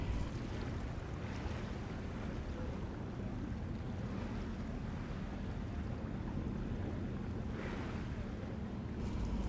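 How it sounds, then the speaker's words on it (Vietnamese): Large waves from a passing container ship wash and crash around a small tugboat, a steady loud roar of churning water and wind buffeting the microphone. "Trời ơi, sóng nó dập kìa."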